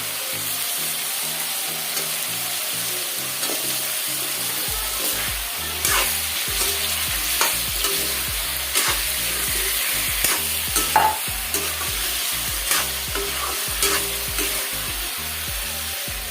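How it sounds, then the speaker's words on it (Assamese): Continuous loud sizzling of chicken and potato pieces frying in oil in an uncovered pan, with repeated scraping and stirring sounds throughout and no talking. "এনেদৰে ঢাকন নিদিয়াকৈ অলপ সময় ভাজি ল'লোঁ"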